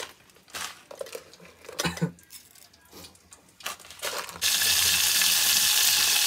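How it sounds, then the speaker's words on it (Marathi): Green chillies hit hot oil as a tadka, with scattered clanks of a pot and utensils first, then a loud, continuous sizzle that takes over for the final seconds. "तडका दिला आपण. तडका मिरच्याचा."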